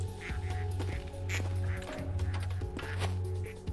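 Cartoonish ducks quacking in the video game Duck Factory, repeated quacks over a looping background melody, moderately loud, no speech.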